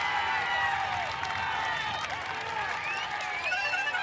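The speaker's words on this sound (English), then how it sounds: "What a huge crowd it is." Large roadside crowd at the Tour de France cheering and clapping in a bright, dense wash of noise that holds steady throughout.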